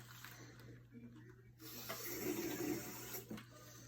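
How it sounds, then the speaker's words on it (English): Tap water flowing gently to rinse a microscope slide on a staining tray in a biology lab, a faint steady splash that grows slightly fuller midway, with a low hum underneath. "And then with tap water, I'm going to rinse it off."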